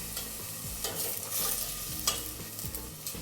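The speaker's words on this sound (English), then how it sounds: "we're gonna give everything one nice mixing just to incorporate everything in there" Sofrito, peppers and chorizo sauté in a pan while being stirred, with close, repeated scraping strokes over a constant gentle sizzle.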